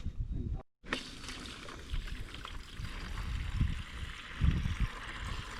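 Tap water runs steadily into a homemade bait tank fitted with a filter sock, a continuous close rushing hiss that starts after a brief silent gap and swells slightly near the end.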